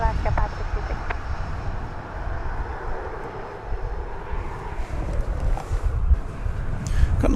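An Alaska Airlines Boeing 737-9 jet at DFW Airport, a continuous rumbling engine roar with wind buffeting, heard under talk throughout.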